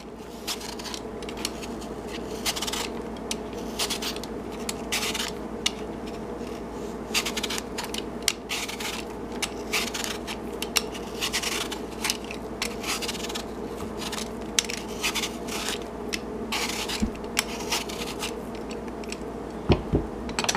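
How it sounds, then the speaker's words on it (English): A vegetable peeler strips the skin from an apple for a pie, giving a steady run of close, dry scraping and rubbing strokes that repeat in quick bursts for about twenty seconds with no talking. "If you use a vegetable peeler, it's quite simple. Just peel off the skin."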